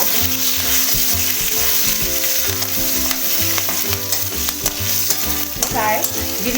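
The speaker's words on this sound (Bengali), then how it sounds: "এবারে আমি তেলের উপর সামান্য গোটা জিরে আর চিড়ে রাখা 4টে কাঁচা লঙ্কা দিয়ে দিলাম" Whole cumin seeds and four green chillies sizzle and crackle in hot oil while being stirred in a pan, a steady close frying hiss with scraping stir strokes throughout.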